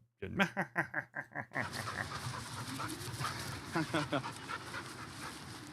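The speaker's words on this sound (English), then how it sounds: "There's a dog." A dog pants in quick, close, rhythmic breaths at the start, then someone talks over continued softer panting and background noise.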